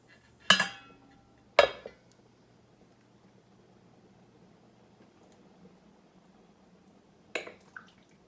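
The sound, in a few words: putting lid on vegetable soup pot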